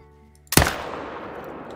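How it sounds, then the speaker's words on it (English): A single loud rifle gunshot in a hunting video game set on Australia's Emerald Coast, a sharp close crack at the start followed by a long fading echo and low ambient hum, with no speech. "I'm just gonna shoot him from here"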